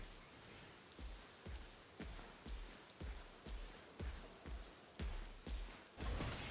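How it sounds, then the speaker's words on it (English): Acid rain in the video game SYNDUALITY Echo of Ada, a steady hiss of rainfall with a series of regular dull thumps about every half second, fairly faint and with no talk. "What is it, acid rain?"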